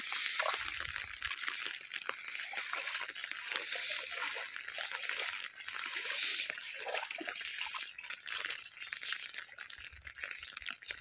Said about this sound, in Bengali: এই অবস্থা টিপ টিপ বৃষ্টি হতেই আছে।